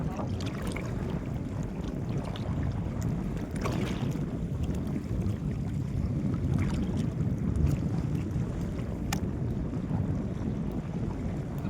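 Strong wind blows at sea near an 11-foot fishing boat, roaring steadily and buffeting the microphone. Waves wash against the hull underneath it, with no talking.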